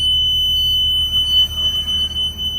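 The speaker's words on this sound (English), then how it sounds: "once the door comes on, it does have a loud alarm" A school bus door alarm sounds as a steady, loud, high-pitched electronic tone over a low idling rumble, continuous throughout, with no talking.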